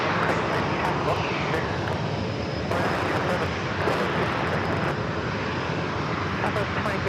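A plane landing on runway 27 at San Diego airport roars continuously, a loud, steady broadband engine rumble with a thin high whine, while a voice talks over it.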